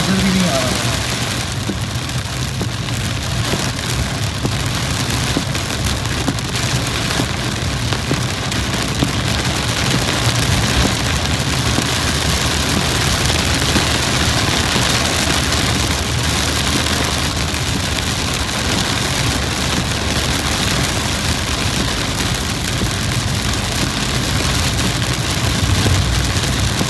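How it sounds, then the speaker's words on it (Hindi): Heavy rain drums steadily on a Toyota Hyryder, a dense, unbroken hiss and patter heard from inside the car, with a low engine rumble underneath throughout. "इतनी तेज़ बारिश हो रही है कि मुझको नज़र भी नहीं आ रहा है।"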